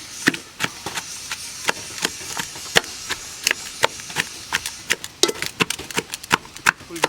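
Boiled tender jackfruit is pounded in a steady series of sharp, dull thuds, roughly two or three per second, close and fairly loud, with no one speaking.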